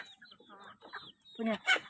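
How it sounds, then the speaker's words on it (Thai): Chickens cluck while being fed, with a rapid series of close, irregular clucks and squawks building to louder calls at the end. "ตอนนี้คุณแม่กำลังให้อาหารไก่อยู่นะคะ"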